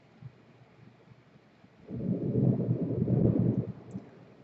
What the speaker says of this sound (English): I don't know if you heard that, but that is thunder